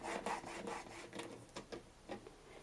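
Scoring tool drawn across cardstock, a faint, soft scraping rub repeated in short strokes, close with no talk.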